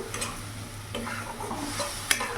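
Cauliflower kalia curry with cumin powder and a splash of water being stirred in a pan, soft scraping strokes with a gentle sizzle and a light clink of the spoon, close and quiet.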